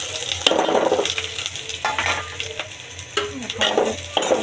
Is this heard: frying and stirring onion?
yes